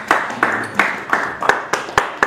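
A church congregation applauding, with roughly eight sharp, evenly spaced claps over about two seconds, fairly close and rhythmic, with a slight murmur of voices underneath.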